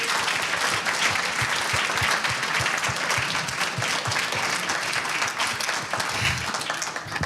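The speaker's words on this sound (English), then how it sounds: "Let's just clap." A full audience applauds at a restorative justice panel discussion: dense, sustained clapping from many hands, loud and even throughout, with no break in the wash.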